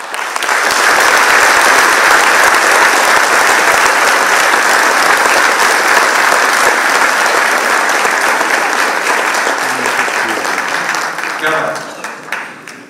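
Sustained, loud applause from a large audience fills the room, holding steady for several seconds before fading out near the end.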